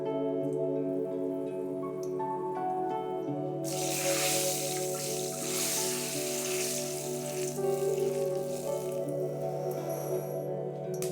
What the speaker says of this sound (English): In the same pot, using the residual oil, we will add our whole spices.